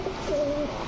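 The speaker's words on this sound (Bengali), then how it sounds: "এগুলো হচ্ছে পাকিস্তানি বাবরা কবুতর" A young Pakistani Babra pigeon gives one soft, low coo that rises and then holds a steady, gently wavering tone for about half a second, close by and clear against quiet background noise.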